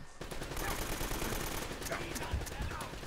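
Sustained gunfire fills the mix in Uncharted: Drake's Fortune, a dense rattle of shots from start to finish with talk over the top.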